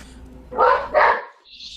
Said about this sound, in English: I have my dog barking, so that's okay.